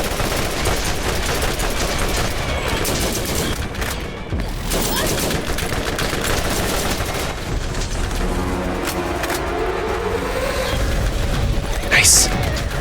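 SMG gunfire from Borderlands Remastered, playing as Lilith, comes in dense, continuous bursts with booming impacts that fill the whole stretch, while a player talks over the shooting.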